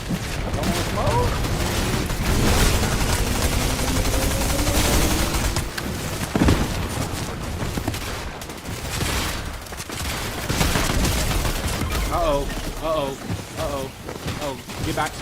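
Gunfire in the Fortnite video game crackles in dense bursts of rapid shots with occasional heavier booms, loud and continuous beneath excited talk.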